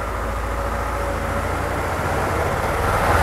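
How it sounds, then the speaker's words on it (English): A 2008 Ford Focus engine with a random misfire climbs to higher RPM, its idle hum rising into a steady, louder drone that swells slightly toward the end. "let's look at elevated RPMs and see the elimination of the triple strike. I'm bringing the RPMs up"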